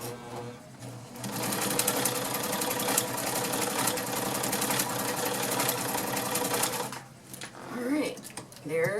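A vintage White model 533 sewing machine runs a blind stitch with a loud, steady mechanical whirring and rapid ticking that lasts several seconds, then slows and stops. Faint handling sounds follow.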